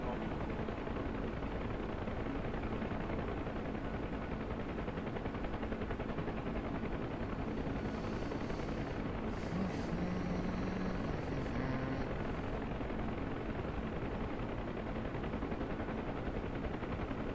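An in-game UH-1H Huey helicopter in DCS lifts off, its rotor and turbine roar filling the scene loud and steady throughout, with a few brief clattering bursts partway through.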